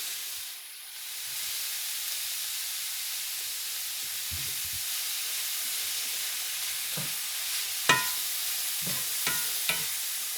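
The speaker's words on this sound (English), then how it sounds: "So this is what we got with fried collard greens." Collard greens fry in a pan with a steady sizzling hiss, broken by several sharp scraping clicks and knocks of stirring toward the end; no talking.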